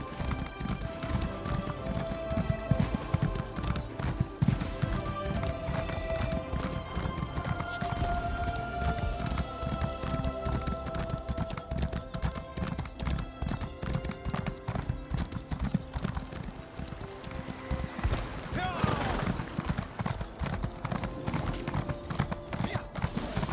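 Horse hooves clip-clop in a steady, continuous rhythm for the whole stretch, close and moderately loud, with a faint voice occasionally under the footfalls.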